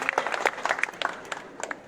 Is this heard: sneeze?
no